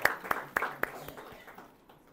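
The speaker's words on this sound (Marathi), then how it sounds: "येशूच्या नावात टाळ्या वाजवून स्वागत करूया" A church congregation claps in welcome, a few loud sharp claps at the start thinning into softer scattered clapping that fades out within two seconds.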